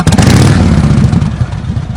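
A motorcycle engine roars loudly up close, with a rough, throbbing revving rumble that eases slightly toward the end.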